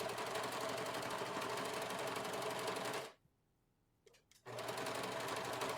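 A sewing machine stitches a coat collar with a loud, rapid, even running hum, pauses briefly in near silence with a couple of small clicks, then resumes stitching at the same steady pace.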